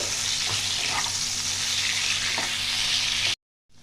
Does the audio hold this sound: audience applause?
no